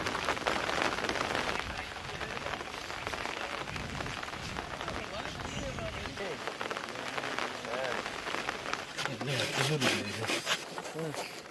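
Light rain patters steadily on a surface in a village, a soft continuous crackle with faint voices murmuring in the background.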